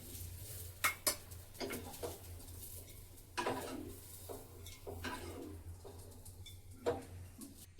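Fried ingredients for an egg curry scraped and tipped into a mixer jar, with a run of separate clinks and knocks of metal utensil against dishes, a few sharper taps standing out over a low steady hum, no talking.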